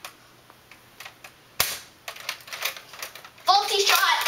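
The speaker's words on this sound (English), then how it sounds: "Minion gets to shoot again. Faulty shot. Something is wrong with the gun." A toy gun fires a few sharp, clicky cap-gun snaps amid quiet background and light talk.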